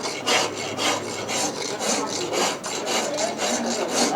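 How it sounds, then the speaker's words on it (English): An ancient Egyptian-style hand brace and bit boring into a lump of alabaster, giving a steady rhythmic grinding rasp with regular strokes about twice a second, close and continuous. "this is an ancient Egyptian brace and bit for drilling a hole in lumps of alabaster"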